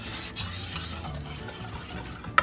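A spoon stirring crepe batter in a bowl, a soft continuous wet swishing and scraping with a small clink near the end, close and fairly quiet.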